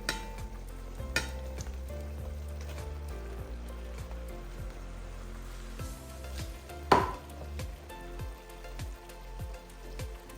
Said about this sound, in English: so I'm going to add the okra into it now